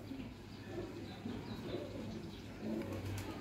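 A desi high-flyer pigeon coos softly in low, rolling murmurs, fairly faint and somewhat distant against a steady background hum, with a few light chirps mixed in.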